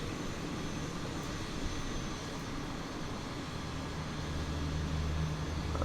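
Airbus A380 jet engines spool up, a broad steady roar heard from inside the cabin with a low rising drone toward the end and no talking.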